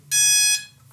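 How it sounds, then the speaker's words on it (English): A single high-pitched electronic beep tone from an RC plane's ESC confirming calibration sounds for about half a second, clear and close, then cuts off. "those beeps indicate that the ESC is now all calibrated"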